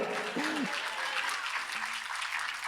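Audience applause at a ceremony honoring the "vasos de oro" award recipients, a steady wash of many hands clapping, with a brief tonal voice rising briefly above it now and then.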